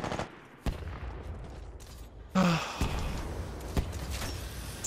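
Gunfire in Titanfall 2 multiplayer: sharp shots and short bursts crack out at intervals, with a louder close burst midway over a noisy battle background, and a voice speaking at times.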